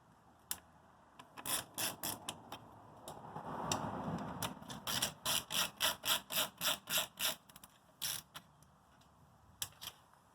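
A Torx screwdriver backs screws out of a Jeep Wrangler headlight surround, a close series of rhythmic scraping, ratcheting bursts with short pauses between turns and no talk.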